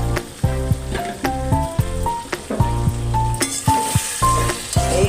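Spiced mutton liver fries down in a pan as its gravy dries, with a continuous sizzle under rhythmic, tonal background notes. There is no talking.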